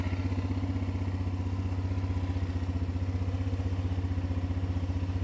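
A Linhai M210 ATV's 200cc engine runs while riding, a loud, steady, rapid low-pitched thrum with a regular pulsing beat and slight mechanical clatter, close and continuous.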